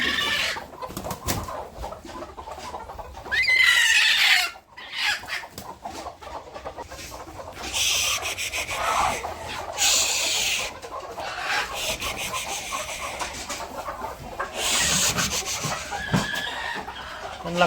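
Hens cluck repeatedly inside a shed where they are kept indoors for a couple of days, with a rooster crowing amid the steady close-up chatter of the flock and a faint scratching rasp.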